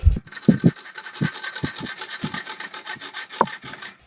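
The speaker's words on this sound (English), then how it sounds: "Let me grab a saw, and we're gonna take her right off." A hand saw cuts through an old wooden axe handle clamped in a vise, with steady back-and-forth rasping strokes, roughly a dozen in a row, close and fairly loud, and no one talking.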